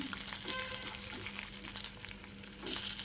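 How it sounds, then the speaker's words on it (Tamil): Garlic cloves sautéing in a pan for a kuzhambu, a steady close sizzle with light crackles and a few scraping stirs, louder toward the end. "ஒரு பதினஞ்சு பல் பூண்டு சேர்த்து நல்லா வதக்கி எடுத்துக்கணும்"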